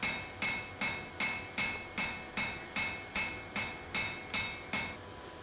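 Hammer blows ring on a forge-welded carbon steel adze bit at the anvil, as a blacksmith spreads and dresses the edges of an Anglo-Saxon style adze: about twelve evenly spaced, sharp metallic strikes, close and alone.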